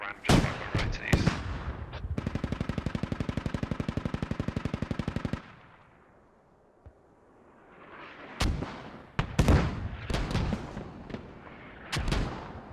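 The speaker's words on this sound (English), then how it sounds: "Calm under pressure, mortars landing." Mortar shells land in the video game Squad as a string of sharp booming impacts, a rapid rattling burst and then decaying rumble, with more loud blasts after a quiet gap.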